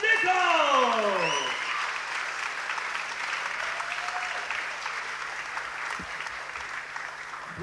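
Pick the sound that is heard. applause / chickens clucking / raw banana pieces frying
applause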